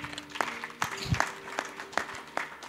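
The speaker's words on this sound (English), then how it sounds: "Let's clap for Jesus." A congregation at a church sermon claps sparsely, with a handful of sharp, separate claps spaced through the moment over a steady low hum.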